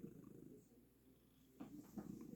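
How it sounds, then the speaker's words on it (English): A pet cat purring close to the microphone, a steady low rumbling purr with a couple of louder breaths near the end, no talk. "And this is my cat Bones."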